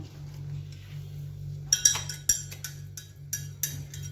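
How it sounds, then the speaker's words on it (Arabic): A metal spoon clinks against a container while stirring water and vinegar for pickled cucumbers, giving a quick run of sharp, close taps after a quiet stretch with a low steady hum. "هنحط شويه خل، معلقه خل كده، ونقلب كله كويس"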